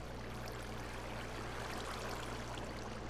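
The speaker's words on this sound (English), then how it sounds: "And there's water flowing." Water flows through a channel in a Minecraft zombie farm, a steady, moderate rush, a continuous stream-like murmur with a faint low hum underneath.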